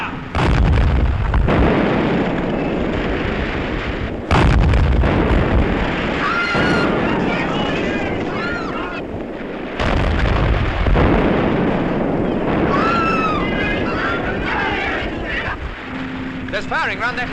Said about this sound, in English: There's firing round that headland.